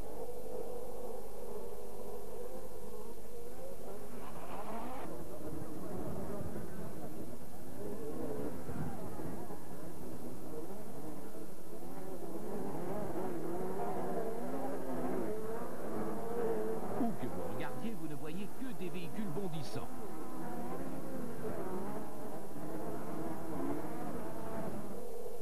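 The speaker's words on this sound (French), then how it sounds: "Retournons faire un tour du côté des voitures trafiquées." Modified off-road pickups and buggies at a race in Riverside, USA: engines drone and rev at a distance, rising and falling over a long stretch, faint and mixed with crowd ambience and a speaking voice.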